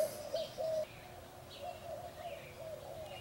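A rescued baby hummingbird resting in a little bird bath gives thin, repeated chirps in a steady series. The calls are close and fairly faint, heard alone.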